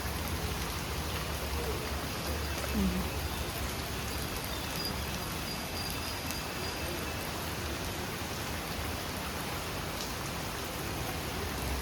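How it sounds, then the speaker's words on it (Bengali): Steady, heavy rain pours down without a break, a dense hiss of drops hitting surfaces throughout. "সারা দিন রাত খালি বৃষ্টি ঝরেই চলেছে"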